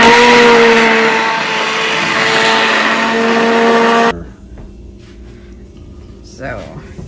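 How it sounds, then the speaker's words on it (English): A loud, steady whirring blender chopping tomatoes for sauce runs for about four seconds, then cuts off abruptly, leaving quieter room noise and a brief rustle. "Blending the sauce, chopping up all the tomatoes."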